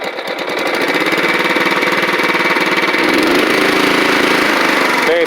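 A Toro Proline walk-behind mower engine idles close by, running a little rich, with a loud, steady, rapid pulsing putter that holds even throughout and no speech over it.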